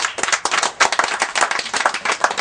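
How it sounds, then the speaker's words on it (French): An audience at a gift-giving ceremony in a French-speaking setting bursts into close, brisk clapping, with dense hand claps in uneven bursts throughout the brief moment. "Applaudissez."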